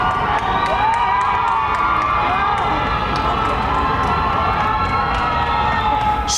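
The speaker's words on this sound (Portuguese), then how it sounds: "salva de palmas marcaram o último adeus do povo namibiano ao presidente Hage Geingob" Crowd cheering, shouting and whooping along the streets during the funeral procession of Namibia's president, a dense continuous roar of many voices with high cries and whistles rising above it, loud and steady throughout.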